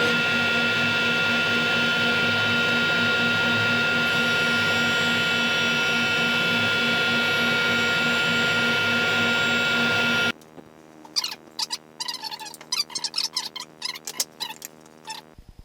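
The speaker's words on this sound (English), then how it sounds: "So clean both of these up with one pass in the joiner." A wood jointer planes the edges of cabinet panels in a single pass, a loud steady motor whine with a broadband cutting roar for about ten seconds. It stops abruptly, leaving faint clicks and light handling sounds.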